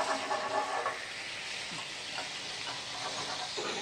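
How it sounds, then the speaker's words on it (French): A pan of thin-sliced beef is deglazed with truffle juice, giving a steady close sizzle and hiss, with a few soft scraping stirs toward the end and no speech. "the fat is drained and the beef dish is deglazed with truffle juice"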